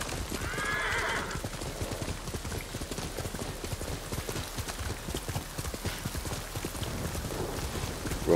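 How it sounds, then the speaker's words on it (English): A horse neighing once and galloping in the video game Ghost of Tsushima, a short whinny followed by continuous rapid hoofbeats under stormy background noise. "I need my horse."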